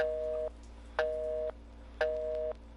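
A telephone rings inside a video game, with three evenly spaced electronic tones, each about half a second long with a regular pause between them, clean and moderately quiet with no talk over it.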